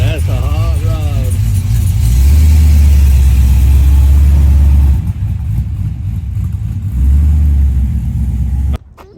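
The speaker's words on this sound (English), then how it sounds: "That's a hot rod." A hot rod's engine revs hard in a few loud, rising bursts with a deep rumbling idle between them, while voices talk over it near the start.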